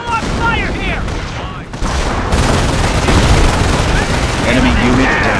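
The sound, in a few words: small arms gunfire in Company of Heroes video game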